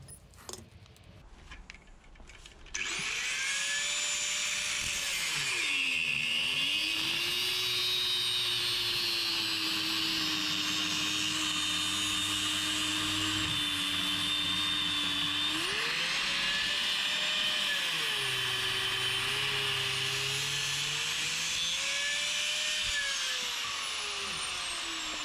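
Angle grinder whining steadily for a long stretch while cutting into a Litelok X1/X3 bike lock, the pitch dipping and rising as the disc bites and eases, loud and close with no talk.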